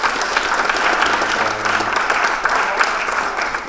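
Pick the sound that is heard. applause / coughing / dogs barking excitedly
applause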